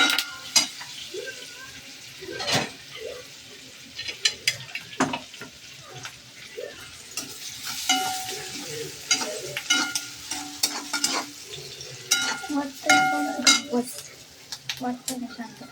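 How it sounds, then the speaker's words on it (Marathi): Onion fries in a pan with curry leaves, a soft sizzle under repeated scraping and stirring clicks of a utensil against the pan, close and intermittent throughout. "कांदा भाजून घेतला."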